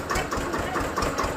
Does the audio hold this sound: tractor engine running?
yes